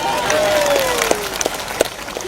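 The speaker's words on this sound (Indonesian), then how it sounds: "Asal tepuk tangan aja" Crowd applause during an Islamic religious lecture, a brief burst of clapping and cheering with voices mixed in, fairly close and loud.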